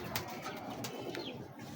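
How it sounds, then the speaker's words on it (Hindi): Big breeder pigeons cooing softly in a loft, low throaty coos under a steady bed of background noise, close but faint. "ये देखें, कीमती कबूतर है।"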